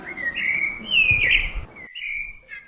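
Cartoon eagles call with long, high, wavering whistled cries, one rising and swelling loudly before breaking off, then a shorter fainter cry, with no talking.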